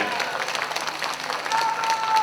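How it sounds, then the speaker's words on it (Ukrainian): A festival concert crowd claps and cheers loudly and continuously, with a few voices calling out over the applause. "оплески!"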